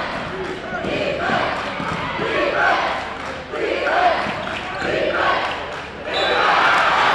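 Crowd noise at a Brockton versus Mansfield high school girls' basketball game swells and falls in a busy gym, with steady broadband roar and bursts of shouting throughout, and a louder surge near the end.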